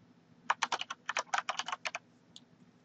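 Quick run of computer keyboard keystrokes while entering a label name in Visio 2010, about a dozen and a half close, crisp clicks in an uneven rhythm, then one lone tap after a pause, over a faint hum.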